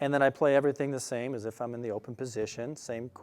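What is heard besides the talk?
None of the usual background noises is heard.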